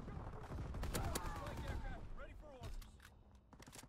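Rapid video-game gunfire from a rifle with a 20-round magazine, dense sustained bursts over a noisy game soundscape with some background voices.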